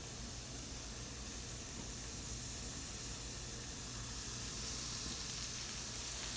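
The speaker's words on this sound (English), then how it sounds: "I'm just going to add them to my pan and let them saute down." Onions sauté in butter in a pan, giving a steady, soft, continuous sizzle and hiss, fairly faint, with no talking.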